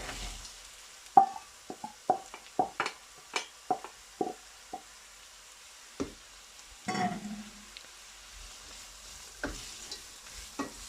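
Carrots frying with onion and garlic for vegetable fried rice give a low sizzle beneath a run of sharp, evenly spaced clinks and scrapes from stirring, then a brief louder hiss, with no talk.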